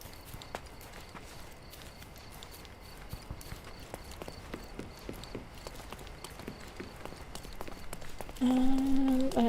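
A horse walks at a steady pace in the Victorian-era game Sherlock Holmes Chapter One, its hooves clip-clopping evenly and fairly quietly, and a brief tonal chime rings out near the end.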